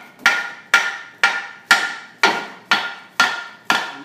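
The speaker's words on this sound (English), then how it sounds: "I want you to see the aggregate that came off and how durable this is while I'm hitting it with a hammer" A hammer strikes a concrete coating eight times at an even, steady pace, each blow a sharp, loud, close crack that decays quickly.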